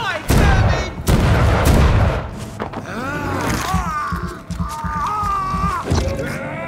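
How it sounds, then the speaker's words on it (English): Gunfire bursts in the Vampyr video game: heavy booming shots in the opening two seconds, loud and close, followed by a person talking over lingering game sound. "Actually, I did not want to shoot him."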